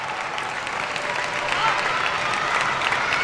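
A table tennis crowd at the 2025 Asian Championships applauds during Wang Chuqin vs Tomokazu Harimoto, a dense, loud, steady wash of clapping that swells slightly midway.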